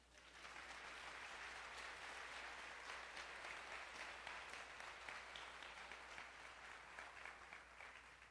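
A church congregation claps together in a steady, even burst of applause lasting several seconds, heard at low level and somewhat distant, with a faint hum underneath and no voices.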